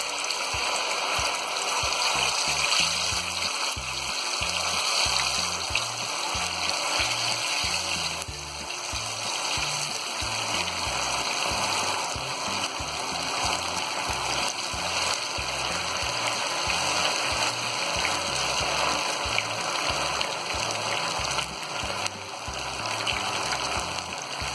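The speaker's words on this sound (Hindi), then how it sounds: "अब हम ये मैरिनेट किया हुआ चिकन इसमें फ्राई करेंगे।" Marinated chicken pieces fry in hot oil in a kadai, producing a continuous close sizzle and crackle like rain that holds steady the whole time, with no voices.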